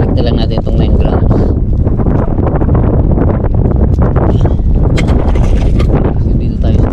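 Steady wind buffets a boat out on deep water at sea, a loud continuous roar with broadband rustle, and a voice speaks intermittently over it.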